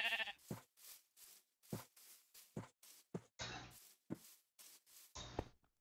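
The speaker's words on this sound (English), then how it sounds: "A shitload of sheep." Sheep in the video game Minecraft bleat repeatedly in short, separate calls, about a dozen in quick succession, clear and close with silence between them.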